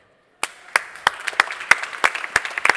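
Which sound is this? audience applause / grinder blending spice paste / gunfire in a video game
audience applause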